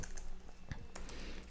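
A few clicks on a computer keyboard ending in a press of the enter key, close and crisp over a steady background hum.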